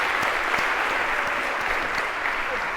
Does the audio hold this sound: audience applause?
yes